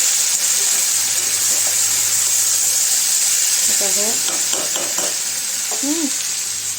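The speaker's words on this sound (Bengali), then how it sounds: "আর এই যে আলু পেঁয়াজ ভাজা করছে এখানে" Potatoes and onions fry in a pan in a home kitchen, a steady bright sizzle running throughout while someone speaks intermittently over it.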